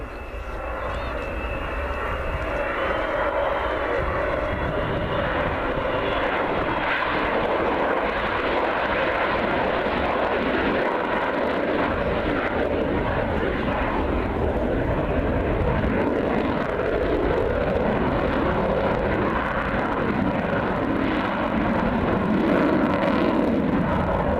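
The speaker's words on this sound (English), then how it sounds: "They've cleaned her up for a slow fly past, cleaned her up, they've got the undercarriage up, and just gently accelerating away." An Avro Vulcan bomber makes a slow fly-past with undercarriage up at the RIAT airshow at RAF Fairford, its engines a loud, sustained, deep rumbling roar that swells gently as it accelerates away, filling the whole stretch.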